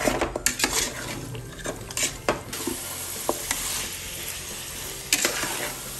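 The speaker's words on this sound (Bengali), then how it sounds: "দেখুন আমি 2 থেকে 3 মিনিট নাড়াচাড়া দিয়েছি" A utensil scrapes and clanks against a pot while chicken tehari with small potatoes is stirred, the clatter coming in irregular bursts over a steady background sizzle, close by with no talking.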